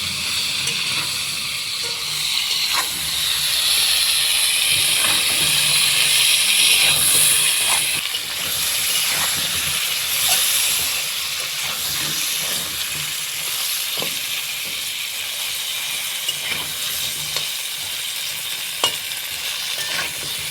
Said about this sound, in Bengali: পটলগুলোকে উল্টে পাল্টে ভালোভাবে ভেজে দিব